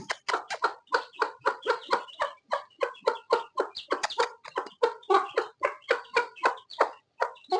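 A hen clucks steadily to call her small chicks, a rapid run of close, moderately loud clucks that carries on without pause.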